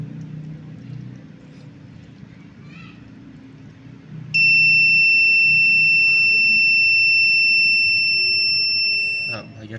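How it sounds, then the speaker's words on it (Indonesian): A buzzer on a distance-sensor pump setup starts partway through and holds a loud, steady electronic tone for about five seconds before cutting off, with faint background noise before it begins. "buzzer sudah bunyi"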